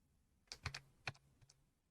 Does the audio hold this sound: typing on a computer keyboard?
yes